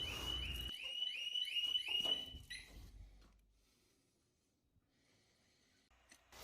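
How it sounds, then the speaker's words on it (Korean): A Harley-Davidson Street Bob 114 motorcycle's factory alarm sounds as a loud, repeating electronic siren for about two and a half seconds, then cuts off abruptly and leaves near silence with faint rustling. "경보기가 울리는 상태에서 킵합을 다시 가까운 곳으로 갖고 오면 경보기는 바로 꺼지게"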